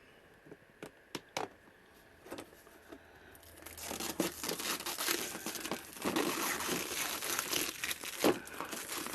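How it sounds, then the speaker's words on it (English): Backing paper is peeled off a PETG thermoplastic sheet for vacuum forming, sparse crinkles and snaps building into a continuous close crackling, tearing rustle. "what we're going to do is remove this backing paper"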